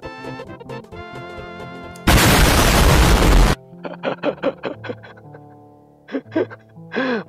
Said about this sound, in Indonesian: Meledak beneran, kocak.